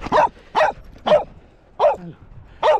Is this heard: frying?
no